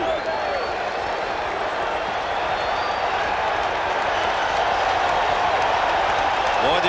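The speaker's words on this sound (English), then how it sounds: "this crowd came here to make some noise tonight" Roaring baseball crowd at Shea Stadium during World Series Game 6 in 1986, a loud, dense, unbroken wash of cheering and clapping from a packed stadium, sustained and slightly building.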